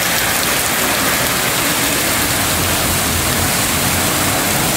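Loud, dense rain roars continuously up close, a thick unbroken wash of noise with no pauses.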